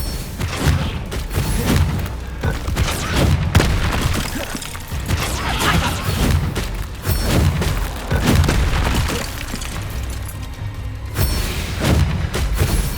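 Confringo and Compulso spell blasts burst in Hogwarts Legacy combat, a run of loud booming impacts and crashes that repeat irregularly over a dense battle din.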